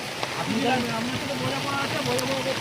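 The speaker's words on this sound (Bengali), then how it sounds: "আজকে বৃষ্টি হচ্ছে" Rain patters steadily in the background while people talk over it.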